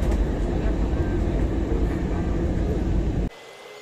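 AirAsia airliner turning to line up on the runway, heard from inside the cabin as a loud, steady low engine roar and rumble that cuts abruptly to a quieter hum at the end.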